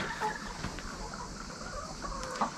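Laying hens cluck softly in a warm poultry tent, with scattered calls over a steady background hum of the flock.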